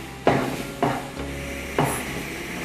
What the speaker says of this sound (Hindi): इसे हाई फ्लेम पे अब मैं भूनूंगी